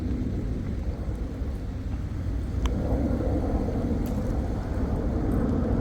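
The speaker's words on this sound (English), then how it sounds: "can't really talk with those jets overhead" Jets roar overhead along a river walking trail in Riverdale, a steady low rumble that swells slightly louder toward the end, loud enough to drown out talk.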